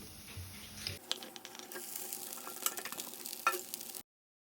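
Cooked rice stir-fried with chilli garlic paste in a hot pan gives a steady sizzle broken by scraping, clattering spatula strokes, close and fairly loud until it cuts off abruptly.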